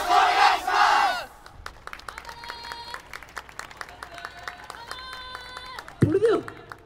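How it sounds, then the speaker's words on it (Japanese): A crowd at a yosakoi dance performance in the Odorunya 2017 festival lets out a loud, brief shout of cheering at the start, followed by quieter tonal music-like sounds and sparse clicks, with one more short vocal burst near the end. "どうかご声援よろしくお願いします"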